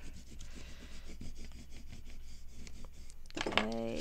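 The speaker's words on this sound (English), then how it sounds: "Let's burnish this on there." Paper being burnished by hand onto a junk journal tag, a soft continuous rubbing and scraping close by, fairly quiet, with a brief sharper sound near the end.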